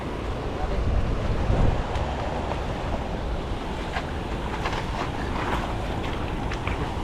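A strong water current rushes through broken fishing pools, a dense continuous roar of flowing water with wind buffeting close to the microphone and faint voices in the background.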